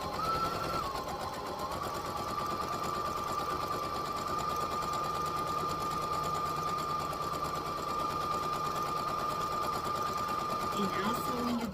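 Sewing machine stitching a small fabric scrunchie keychain, a steady continuous whir with rapid needle chatter running almost the whole time, close and fairly loud, with a brief slowdown near the end.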